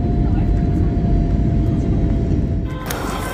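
Steady low engine drone and cabin rumble from inside an airplane in flight, continuous and fairly loud throughout, with a brief clatter near the end.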